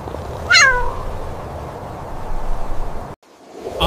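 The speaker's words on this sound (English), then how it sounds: "The kitten lets out a small meow that echoes in the air." A cartoon kitten gives a single small, high meow near the start, clear over a steady airy background hiss that briefly cuts out near the end.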